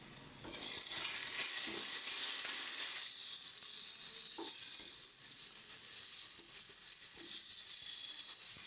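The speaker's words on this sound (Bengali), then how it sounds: "তো চলো, এবারে আমরা এর মধ্যে দিয়ে দিচ্ছি আগে থেকে কেটে রাখা টমেটোটা।" Chopped tomato dropped into oily, sizzling masala in a pan, a loud continuous fry-hiss close up, with faint stirring knocks against the pan.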